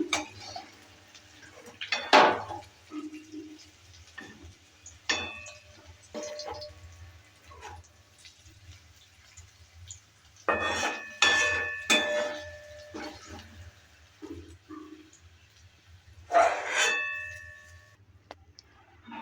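Fried onions are lifted out of a pan with a utensil, making scattered clanks, scrapes and clinks of metal on cookware, with a few louder clusters between quiet pauses.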